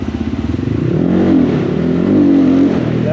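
A motocross bike on a paved spot pops at idle, then roars loud and close as the throttle is opened hard for a wheelie, the engine note rising and holding with strain before easing off.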